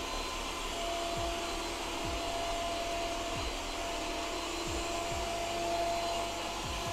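A Yeedi Vac Max robot vacuum cleaner runs with its front rotating brush turning, giving a steady close whirring drone with a faint whine and occasional soft bumps as it moves.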